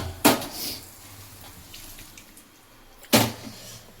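Mint and green chillies rinsed under a running kitchen tap, with two sharp bursts of water splashing near the start and again near the end over a low steady flow.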